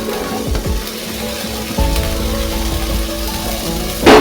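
Onions and garlic frying in a karahi for vegetable patties make a steady sizzling hiss, with faint clinks and stirring scrapes over the crackle and a louder clatter right at the end.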